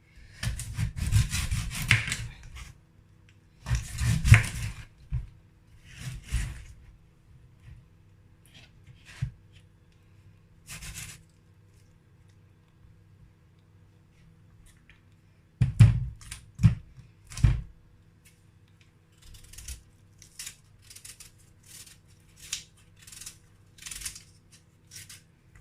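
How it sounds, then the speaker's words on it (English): A knife cutting a raw yam into large chunks, with scraping, rasping strokes that come in separate bursts and long quiet gaps in between, heard close and fairly soft. "I'm going to cut it like this. As I said, I like cutting my yam big."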